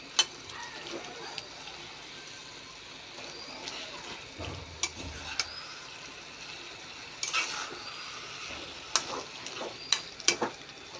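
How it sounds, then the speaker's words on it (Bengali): Meat frying and being stirred in spices in a pan, a soft continuous sizzle punctuated by scattered spoon clanks and scrapes against the pot, with a few faint voices. "মাংসগুলো দিয়ে দেবো দিয়ে কষাতে থাকবো নাড়াচাড়া দিতেই থাকবো"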